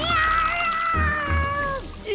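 A cartoon cat in a castle lets out a long, drawn-out meow that wavers and slides downward, close and clear, with low background sounds beneath.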